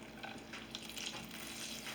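Chopped green pepper and onion sizzle in a pan for an omelet, a soft steady frying hiss with faint crackles, quiet and continuous without voices.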